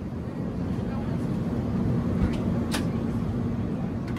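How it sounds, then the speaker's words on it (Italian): Inside an airplane cabin in flight over the ocean, a steady, broad, fairly faint rumble of engine and air noise carries on throughout, with a couple of soft clicks. "Questo che sentite è il rumore dell'interno di un aereo che sta volando sopra l'oceano."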